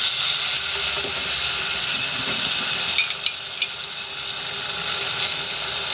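Sugar and water heat in a pan for caramel, giving a steady, close hiss of sizzling with a few faint scrapes and clinks of stirring throughout, no voices.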